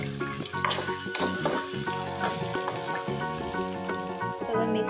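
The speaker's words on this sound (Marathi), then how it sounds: "भरलेले गिलके टाकूया। जेव्हा टाकून झालं सगळं मिक्स करून घेऊया।" Stuffed ridge gourds fry and are stirred in a pan with turmeric, giving a continuous soft sizzle with stirring scrapes, set against steady background music.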